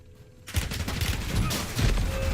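Gunshots in the Warzone video game start abruptly after a quiet half second and become a loud, sustained volley of rapid shots close by, lasting to the end.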